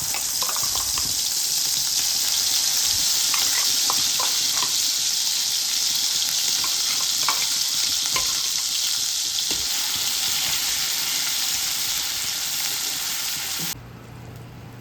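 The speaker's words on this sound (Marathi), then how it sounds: "तेल गरम झालेलं आहे, तर इथे ग्रेव्ही घालून घेणार आहे." Unstrained gravy poured into hot oil in a pan sizzles loudly and steadily at close range, a broad continuous hiss with small crackles that cuts off sharply near the end.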